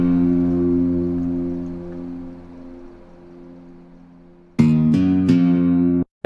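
Main synth pad from an electronic music track, a sustained harmonic tone holding steady for several seconds, then swelling louder with brighter, shifting stabs near the end before cutting off.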